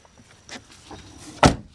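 BMW Z3 car door opening by hand, its roller catch releasing in a single sharp close clunk after faint handling rustle.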